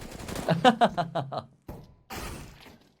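Gunfire in a Counter-Strike: Global Offensive match between BIG and Team Space, heard as a rapid burst of several sharp shots over about a second, followed by a couple of duller thuds, mixed with commentary.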